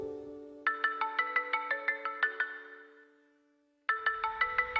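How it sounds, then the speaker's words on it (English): A phone ringtone plays a bright, plinking melodic pattern of rapid repeated tones, stops and lets the last note fade out, then starts again near the end, clear and alone with no talking. "whenever you hear that ringtone, your mind will shift to this marksman state"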